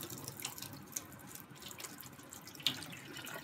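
Kitchen tap water runs steadily into a sink while dishes are rinsed, a continuous soft splashing stream with a few brief brighter clinks, quiet and close, with no voices.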